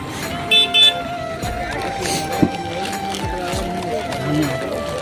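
At a wedding farewell, a vehicle gives two short horn toots in quick succession as it approaches, over steady engine rumble, with a crowd of people talking nearby.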